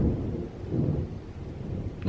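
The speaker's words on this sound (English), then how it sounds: "It's dark out, it's thunder." Deep, low thunder rumbles on through a dark thunderstorm outdoors, a steady muffled roll with faint rain texture, fairly loud and without speech.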